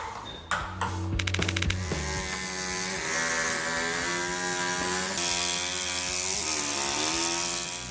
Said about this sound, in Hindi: ये आदमी तकिए में ड्रिल क्यों कर रहा है। लेकिन ये तकिया नहीं है, ये संगमरमर की मूर्ति है।